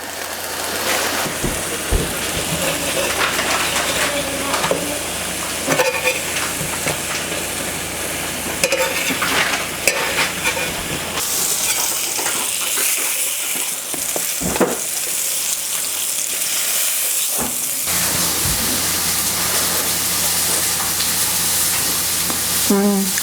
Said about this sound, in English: A little stir of our enchilada sauce, which is smelling amazing.